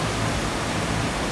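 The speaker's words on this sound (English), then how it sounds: "So this is the waterfall here in Bali." Tegenungan Waterfall in Bali roars as a loud, steady wash of falling water, close by and with no voices.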